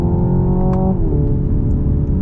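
Simulated engine note from a 2025 Hyundai Ioniq 5 N electric car mimicking a dual-clutch gearbox, a loud droning tone that drops in pitch at a gear change about a second in, then holds steady.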